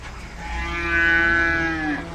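A cow at a livestock market gives a single long, drawn-out moo lasting nearly two seconds, close and fairly loud against a low background hum.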